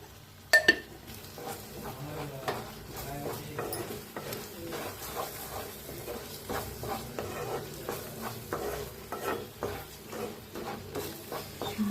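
Ground coriander masala roasting in a pan while a spoon stirs it steadily, with a soft sizzle and light scraping and clinks of the utensil continuing throughout at close range.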